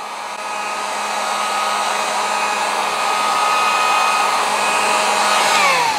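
A heat gun blows on dirt bike graphics vinyl during installation, a loud, close, steady hair-dryer-like rush that swells slightly and shifts in pitch near the end.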